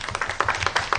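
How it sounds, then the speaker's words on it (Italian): A high-school class of fourth-year students claps in a radio studio classroom, a short burst of several quick, fairly close hand claps. "Fatevi un applauso."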